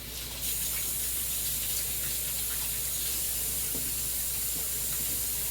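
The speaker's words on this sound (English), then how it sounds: "let me give my hands a good wash." Tap water running steadily over hands at a kitchen sink, a continuous close hiss and splash with no talk.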